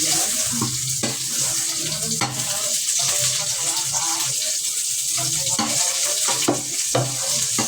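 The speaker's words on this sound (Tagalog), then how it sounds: "Yan po, magigisa na po ako ng bawang." Garlic sautéing in a pan for squid adobo, a steady bright sizzle running throughout with a few clattering stirs and knocks, close and fairly loud with no talking.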